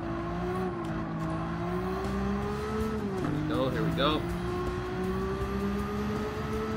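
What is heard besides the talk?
Nissan Skyline race car engine in Gran Turismo 7 video game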